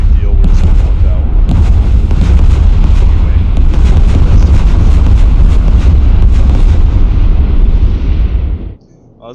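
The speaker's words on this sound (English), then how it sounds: "Oh, that was a pretty sick explosion." A loud, sustained spaceship explosion in the video game EVE Online rumbles with heavy low-end booms and crackling bursts for several seconds before cutting off abruptly.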